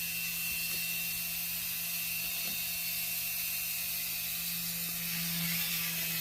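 A Dremel rotary tool spins at speed while polishing a wet surface, giving a constant high whine with a low hum beneath and a few faint ticks.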